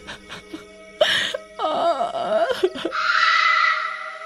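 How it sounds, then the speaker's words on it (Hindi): A woman cries and wails in a horror-story scene, with sobbing moans and whimpers rising into a long, high, sustained wail. The voice is close and loud, with no other sounds. "उस औरत के रोने की आवाजें"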